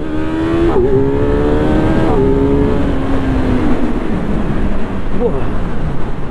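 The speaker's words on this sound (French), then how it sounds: "Il fait une sorte de clac-clac comme ça avec l'échappement qui se met à gueuler" A Kawasaki Z900 motorcycle pulls away hard in first gear, its exhaust roaring loud and close as the engine note climbs steadily, then drops briefly at a gear change before rising again.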